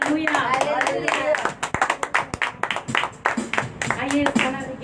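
A church congregation claps loudly and rhythmically during a Sunday service, sharp repeated hand claps in a steady beat with singing voices running over them throughout.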